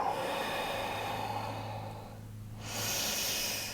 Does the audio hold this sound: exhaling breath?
yes